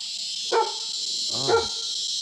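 Two dogs bark in separate bursts, one short yap and a louder, longer bark a second later, heard at moderate distance over a steady high-pitched hiss.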